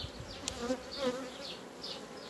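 Honeybees at a hive colony hum in a steady, close buzz with brief swells as individual bees pass near, no talking.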